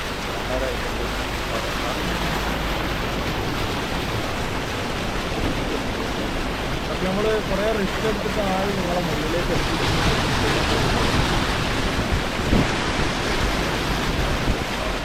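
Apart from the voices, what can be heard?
flood water in Dubai after rain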